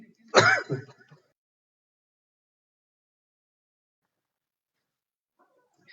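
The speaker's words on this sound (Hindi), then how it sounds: "मैं म्यूट कर देता हूँ जब थोड़ा खांसी आता है" A single short cough near the start, then near silence for several seconds, with a faint brief sound at the very end.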